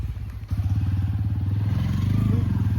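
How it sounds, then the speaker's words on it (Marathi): A motorcycle engine chugs with rapid, even low pulses that grow louder and steadier after a brief pause, as if it is drawing nearer. "गाडीचा आवाज यायला लागला बरं का"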